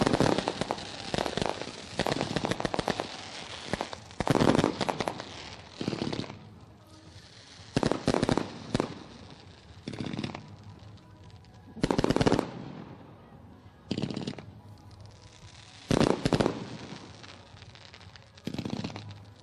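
Fireworks display bursting over Ohsweken Speedway on a race night, loud crackling volleys and rapid popping barrages arriving in repeated clusters with short pauses between, no talking over them.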